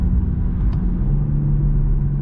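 BMW X4 M Competition engine pulling hard in M dynamic mode with aggressive shifts, a close, steady low rumble inside the cabin, one brief shift break, no voices.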